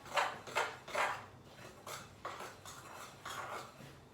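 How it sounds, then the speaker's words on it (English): A spoon stirring a thick maple syrup mixture in a bowl, making a series of soft rhythmic scraping swishes, about eight strokes, close and fairly quiet. "You literally just stir it around."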